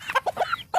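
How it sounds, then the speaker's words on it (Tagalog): A farmyard rooster clucking up close, a quick run of four or five short throaty clucks in under a second, loud and clear with no talk. "O nara akong manok ko, laki"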